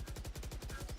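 Rapid automatic gunfire from a tactical shooter match in Valorant, a steady burst of evenly spaced shots repeating about ten times a second, loud and continuous across the whole moment.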